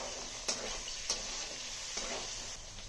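Fried potatoes in a pan hiss softly as tomato goes in, with a low steady sizzle broken by a few light stirring clicks of a utensil against the pan.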